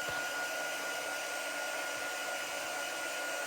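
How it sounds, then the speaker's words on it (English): A heat tool blows a steady, loud, continuous whooshing hiss while warming a handmade card, with no pauses and no talk. "I'll see if I can bring the heat tool in so that you can see it a little better."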